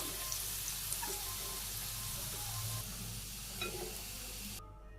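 Magur catfish fries in hot oil in a wok, giving a steady, dense sizzle and hiss that lasts throughout. Faint clinks and stirring sit under it before it cuts off near the end.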